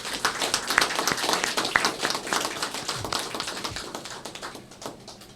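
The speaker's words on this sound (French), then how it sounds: "je voudrais que l'auditoire puisse le remercier par des acclamations" An audience at a ministry handover ceremony for the Minister of Infrastructure breaks into applause, with dense rapid clapping from many hands, loud at first and gradually thinning out.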